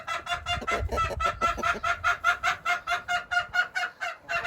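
Chickens under a treehouse coop on an off-grid Alaskan homestead cluck steadily in a rapid, rhythmic run of close calls, with no talking.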